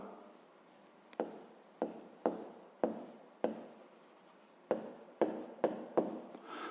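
Writing down a math answer, likely pen on paper, a series of short, close scratchy strokes in an irregular rhythm, with quiet pauses between them.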